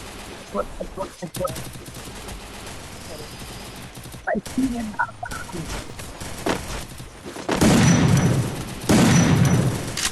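Bursts of rapid gunfire in Free Fire erupt in the second half, loud and crackling, after stretches of casual talk and clicks.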